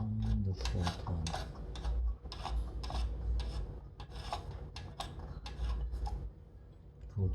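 Close, rhythmic scraping and rasping as screws are turned tight on a Corsair H45 liquid cooler mount inside a cramped mATX PC case, repeated short twisting strokes with a low hum beneath.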